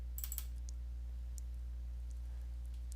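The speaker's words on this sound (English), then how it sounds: "Double click now on the Microsoft folder." A computer mouse on a Windows PC gives a quick cluster of faint, crisp clicks near the start, then the rest stays quiet over a steady low electrical hum.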